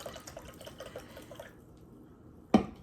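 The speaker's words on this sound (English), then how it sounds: "Let me open my water here for a second." A bottle of water or white wine spritzer being opened: soft clicking and handling sounds, a moment of near quiet, then one sharp, close hiss-crack as the cap gives way.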